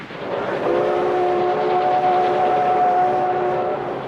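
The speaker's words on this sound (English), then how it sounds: "Trains to me always suggest the blues because they're so mournful sounding" A train sounds a long, steady chord of horn tones, loud and close, holding for several seconds over a low rumble of rail traffic, with no voices.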